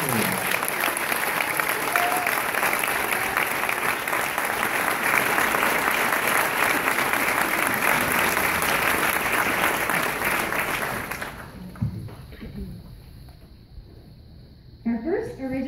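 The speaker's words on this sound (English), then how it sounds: "let's give them a round of applause" An audience at an eighth grade graduation claps loudly and steadily for about eleven seconds, then the applause fades out and a voice speaks over a quieter room.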